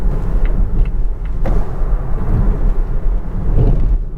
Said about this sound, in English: Let's take it through a series of bends here and see how it handles.